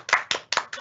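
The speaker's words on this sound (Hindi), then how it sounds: "ताली।" Audience applause at a Jharkhand 20th Foundation Day celebration, heard as four quick, close, sharp hand claps in an even rhythm.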